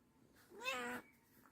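A cat lets out a single drawn-out meow, rising then falling, close but fairly quiet against an otherwise still room.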